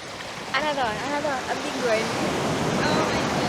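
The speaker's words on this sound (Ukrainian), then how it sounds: "А хвилі тут отакі." Steady roar of sea waves washing in as a typhoon approaches, with a person talking over it for much of the time.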